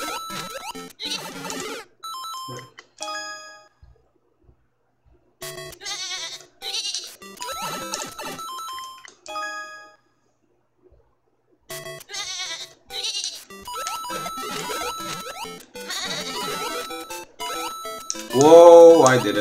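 Sheep bleat in a Mario Maker video game level, short synthetic bleats and squeaky game sound effects repeat in choppy bursts separated by silent gaps, louder toward the end.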